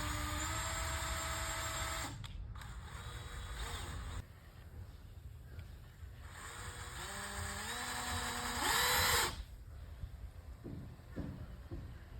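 A power drill fixes an extra hinge onto a wooden gate in several close bursts, its motor whine rising and falling in pitch, with quieter gaps of handling noise between runs.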